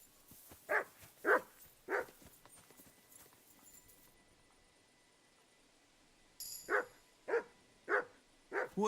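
Mutt the dog in Kingdom Come: Deliverance 2 gives a run of sharp, evenly spaced barks nearby, falls quiet for a couple of seconds, then barks again several more times.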